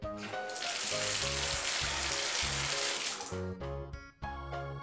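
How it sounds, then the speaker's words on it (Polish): Shower water running in a children's cartoon, a steady broad hiss of spray over a light musical accompaniment, cutting off briefly near the end before resuming. "Prysznic."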